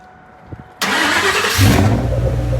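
A stock 2004 Mustang Cobra cranks and fires up on a dyno, a short starter whir giving way to a loud, steady idle that swells as the engine settles, close up with no talking.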